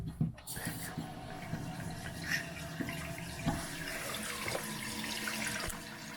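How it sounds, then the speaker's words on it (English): A toilet tank refills after its water supply is reopened following a flapper replacement: a low, steady trickle and hiss of inflowing water with small gurgles and clunks, moderately close and fairly quiet. "Time to turn the water back on."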